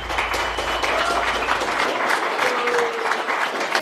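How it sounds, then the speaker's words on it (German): An audience gives a dense, continuous round of applause during the final of a competition show, loud and close with many hands clapping at once, steady from start to finish. "Ein Applaus."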